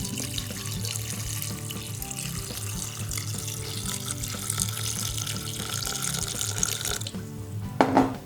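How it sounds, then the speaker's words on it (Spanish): Water pours from a tap into a blender jug over soaked walnuts, a steady splashing rush under faint background music, ending with a few brief clinks. "Ponemos un poco de agua hasta que las cubra."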